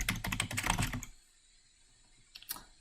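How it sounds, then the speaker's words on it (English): Typing a password on a computer keyboard, with a quick run of dense key clicks for about a second, then quiet, then a brief pair of clicks near the end. "I'm going to type in a password here."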